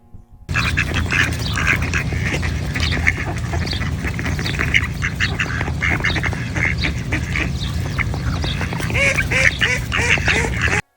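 Loud, continuous squawking and quacking from a crowd of birds nearby in Vancouver, Canada, calls overlapping densely for the whole stretch outdoors.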